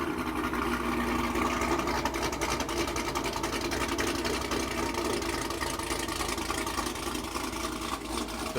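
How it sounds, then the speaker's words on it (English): A sixth-generation Chevrolet Camaro with a heads-and-cam build and Borla mufflers idles steadily and close by, a continuous loud burble with a lumpy, even rhythm and no voices. "This thing sounds really good. It has a set of Borla mufflers."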